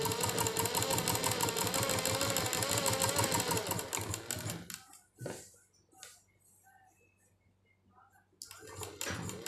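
Electric sewing machine stitching steadily for about four seconds, loud and close, then stopping; afterwards only quiet room noise and a few soft knocks before the motor starts again near the end.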